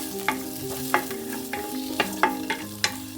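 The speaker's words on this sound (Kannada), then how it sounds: "ಇದು ಚೆನ್ನಾಗಿ ಫ್ರೈ ಆಗಬೇಕು" Garlic and onion frying in oil in a home kitchen pan for a village-style spicy dish, with a steady sizzle under repeated sharp stirring scrapes of a spoon, roughly every half second, close and moderately loud, no talking.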